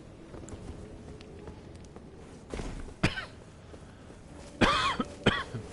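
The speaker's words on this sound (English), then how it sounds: "I feel like I'm coughing so much now because I haven't spoken this much in like a week." A person coughs several times during a gaming session, with sharp, fairly close bursts separated by pauses and a double cough near the end.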